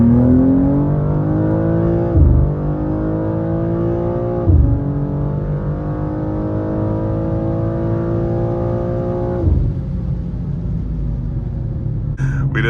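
BMW M2 G87 with the CS tune, running E30 fuel, accelerates hard on a drag run, its engine climbing loudly through the revs with brief dips at each upshift before pulling on again, a deep steady roar close to the car.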